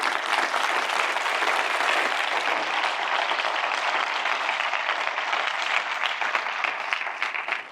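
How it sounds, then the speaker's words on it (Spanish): A church congregation applauds during a sermon, steady dense clapping sustained throughout at an even loudness with no talk over it. "dale un aplauso al Señor."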